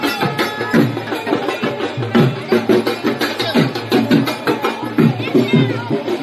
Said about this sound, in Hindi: यहाँ बहुत भीड़ है, आपको आवाज आ रहा होगा शायद से.